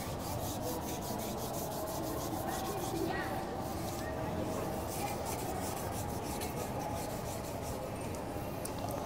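A hand rubs oil into a wooden mugdar club, producing a steady, close, continuous scrubbing friction with a dense, even texture that persists throughout.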